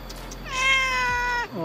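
A cat gives a single clear, drawn-out meow up close, rising and holding for about a second before trailing off, with faint room noise around it.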